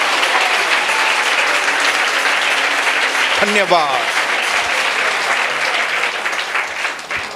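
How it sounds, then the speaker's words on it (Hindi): A crowd claps loudly and continuously, a dense roar of applause, while a single voice briefly speaks partway through. "दोनों हाथों से तालियों की बौछार"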